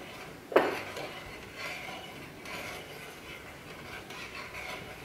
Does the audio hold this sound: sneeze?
no